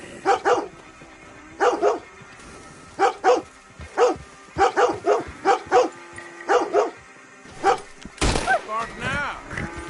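A dog barks again and again in quick, loud, close bursts, some in doubles and triples, before a sharper yelping flurry near the end.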